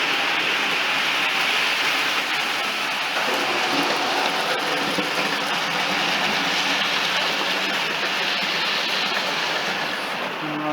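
A model Coronation locomotive runs steadily around its track, making a continuous close rumbling and clattering with no breaks.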